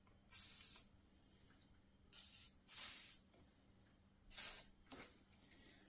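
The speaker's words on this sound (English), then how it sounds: "Let's spray this down with some penetrating oil" Free All penetrating oil sprays from an aerosol can onto a snowmobile left sitting for more than ten years, in three or four short, close hissing bursts separated by quiet pauses, with no talking.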